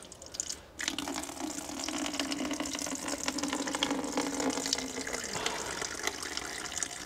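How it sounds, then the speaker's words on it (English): Coolant running out of an opened radiator drain tap on a camper van, a steady close trickle and splash that starts suddenly after a brief quiet moment and continues throughout. "There goes our coolant."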